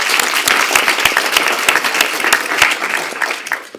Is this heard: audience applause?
yes